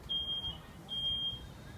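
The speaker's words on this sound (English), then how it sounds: "that was a real quick response for the smoke detector" A smoke detector shrills in two short high beeps with a gap between them, fairly faint and set against a low rumbling room background, after smoke began filling a house.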